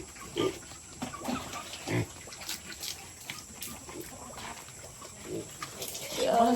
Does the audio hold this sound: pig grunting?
yes